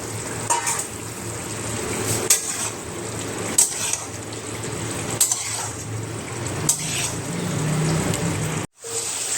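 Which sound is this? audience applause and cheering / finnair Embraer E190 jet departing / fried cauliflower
fried cauliflower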